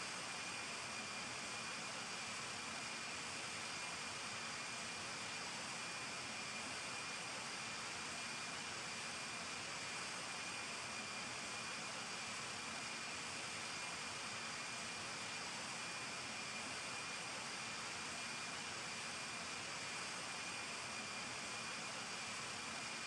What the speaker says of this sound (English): Clear for takeoff runway. 0, 7, left.